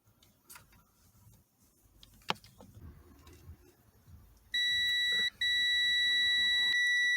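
A multimeter sounds a continuity beep while testing a wire on a Toyota Camry: a steady, piercing electronic tone starts after quiet handling noises, cuts out for a split second, then holds on.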